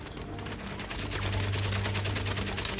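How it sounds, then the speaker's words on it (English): Machine gun fire rattles in Valiant Hearts: The Great War, a fast, even stream of shots continuing throughout at moderate loudness, with no talk. "Okay, machine guns."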